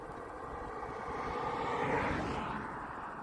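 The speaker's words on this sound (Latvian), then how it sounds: "Motors izkrita." An aircraft engine in a video game gives a faint, distant roar that swells to a peak and then thins out as it cuts out, with no voices.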